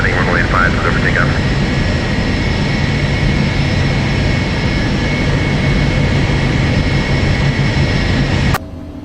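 An airliner in the X-Plane 12 flight simulator spools up for takeoff, a loud steady roar of jet engines holding constant with a high whine, then cutting off sharply near the end.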